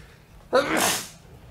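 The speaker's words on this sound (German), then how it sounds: "Warum muss ich jedes Mal bei der fucking Aufnahme niesen?" A single sudden human sneeze, close and loud, during a Dark Souls 3 gaming session, with a brief breathy tail and quiet room noise around it.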